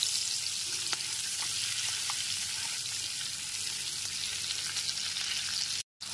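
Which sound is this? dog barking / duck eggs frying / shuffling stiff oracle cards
duck eggs frying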